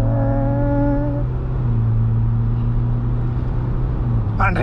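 Steady engine drone heard from the cabin as a 2024 Ford Ranger Wildtrak X with a 2.0L bi-turbo diesel pulls under load, tonal whine settling into a constant low hum with road rumble.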